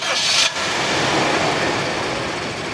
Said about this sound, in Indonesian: Sekarang kita coba nyalakan mesinnya